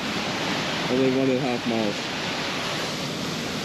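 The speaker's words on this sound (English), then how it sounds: "view this beautiful waterfall" Waterfall on the Bond Lake creek trail, a steady broad rushing roar that fills the whole clip, with a person speaking briefly over it near the middle.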